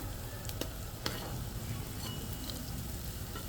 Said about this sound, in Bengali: এই যে আমার একটা একটা করে ভাজা হয়ে যাচ্ছে ডালের বড়াগুলো